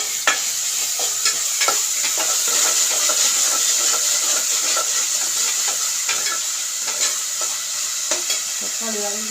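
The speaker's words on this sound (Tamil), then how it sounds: "தக்காளி வதங்கிறது" Tomatoes sautéing in a pan for a home-cooked radish sambar: a steady, close oil sizzle with a continuous hiss and scattered scraping stir clicks throughout, no talking.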